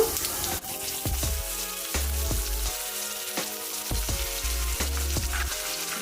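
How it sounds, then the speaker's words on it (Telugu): Cumin seeds and onions frying in oil for Andhra-style chapala pulusu: a continuous bright sizzle close up, with repeated low thuds and scrapes from stirring in the pan, no speech. "ముందుగా మనం ఒక వన్ టేబుల్ స్పూన్ జీలకర్ర వేసుకుందామండి అలానే ఆనియన్స్ కూడా వేస్తున్నాను"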